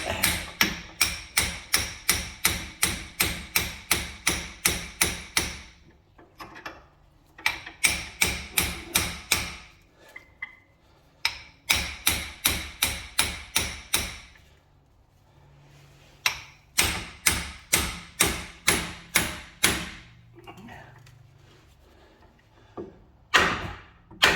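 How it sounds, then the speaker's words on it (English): Repeated sharp hammer blows on the lower ball joint taper of a VW Golf Mk4 suspension, struck in fast bursts of about ten to twelve ringing metallic hits separated by short pauses, loud and close with no talking. "you can hit that a good crack there, and hopefully it'll break the taper"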